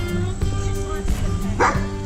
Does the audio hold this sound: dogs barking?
yes